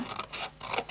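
Scissors snipping through paper for a handmade Easter gift box, two quick close crisp cuts in a row with a brief pause between, no voices.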